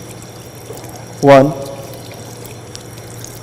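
Water poured over bare feet during wudu ablution makes one brief, close splash lasting about a quarter second, with a voice counting aloud.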